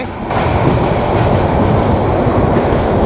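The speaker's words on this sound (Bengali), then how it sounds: "আমাদের ট্রেন এখন যাচ্ছে কমলাপুরের উদ্দেশ্যে" The Sonar Bangla Express, heading for Kamalapur near Dhaka's airport railway station, rolls along its tracks with a loud, steady roar and continuous rattling wheel clatter heard from on board.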